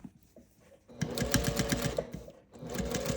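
A sewing machine stitches layered quilted fabric for a gift bag, running in a steady rapid chatter for over a second, pausing briefly, then starting up again, close and clear.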